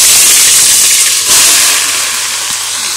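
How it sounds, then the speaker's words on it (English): Onions hit a hot pan for a fish stew, giving a loud rushing sizzle that swells briefly then settles into a steady hiss, with no one speaking. "So now we put in the onions."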